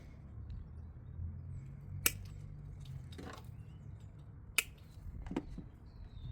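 Scissors or cutters snip through inline fuse wiring in a Ram 1500 pickup, two sharp isolated clicks a couple of seconds apart over faint background rustle.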